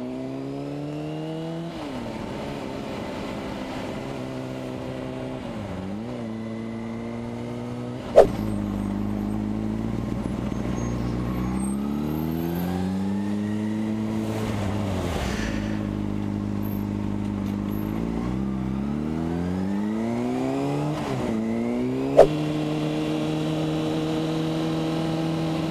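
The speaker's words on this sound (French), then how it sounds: "C'est quoi ça comme bagnole?" A car engine revs repeatedly nearby, rising and falling in long sweeping pitch changes over a constant idle hum, with a couple of sharp clicks along the way.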